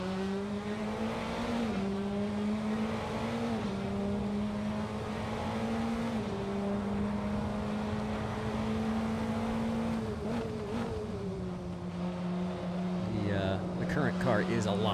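A 2012 original-generation Praga race car in the Assetto Corsa sim racing game at Donington drones steadily at high revs, its engine note dipping and rising with gear changes, with a voice talking over it throughout.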